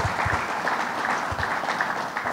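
An audience at a State of the State event claps in sustained, dense applause, a steady crowd wash with a few louder low thumps near the start, no talking.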